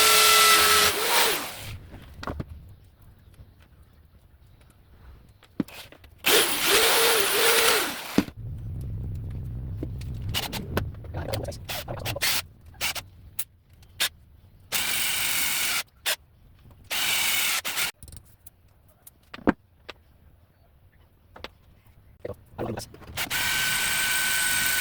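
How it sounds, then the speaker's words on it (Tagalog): Power drill boring deep screw holes into a hanging kitchen cabinet, several short loud whirring bursts separated by pauses, with brief spoken remarks between holes. "magbabare na tayo para sa pagkakabitan natin ng mga screw"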